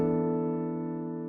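A sustained chord with an open, hollow quality rings out alone, slowly decaying over a little more than a second.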